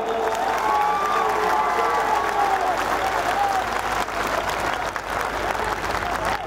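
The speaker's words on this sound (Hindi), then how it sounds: "मुझे तो ग्वालियर की ताली सुनाओ" A crowd at a political rally in Gwalior claps loudly and continuously, with scattered cheers and shouts rising over the steady applause throughout.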